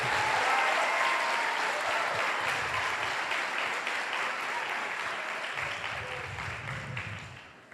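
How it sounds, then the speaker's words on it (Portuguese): A church congregation claps together in sustained, dense applause that starts strong and gradually fades over several seconds. "Aplauda Jesus."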